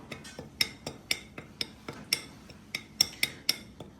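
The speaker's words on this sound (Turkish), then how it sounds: "İçerisine bir kaşık tuz ekleyeceğim. Tuzla karıştırıyor olacağım." A spoon taps and scrapes against a shallow plate while corn flour is mixed with a spoonful of salt, making light, quick clinks in an uneven rhythm, close and fairly quiet.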